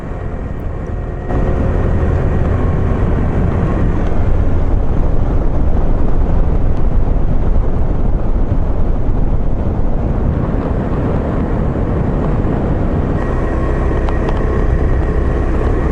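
KTM 390 Adventure motorcycle climbing a dirt hill, its engine a loud, steady roar with heavy wind buffeting that holds almost unbroken throughout, easing slightly near the end.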